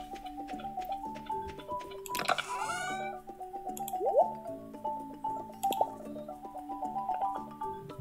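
A cat meows in the Stardew Valley farming game, one clear drawn-out meow and a shorter one, set among soft ticking and plucked game-music tones.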